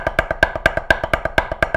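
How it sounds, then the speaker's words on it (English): Snare-stick strokes on a practice pad in an uneven double-stroke roll, roughly a dozen crisp taps in under two seconds with alternating loud and weaker hits, close and dry with no voices. "if you're having issues with like double strokes and your rolls maybe sound like this"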